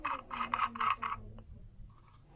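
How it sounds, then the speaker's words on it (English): The smoke fluid tank of a Micro Fogger 3 Lite is unscrewed by hand, giving a few short, close, scratchy plastic rasps in quick succession, then near silence with a faint click. "So we do that by unscrewing the tank."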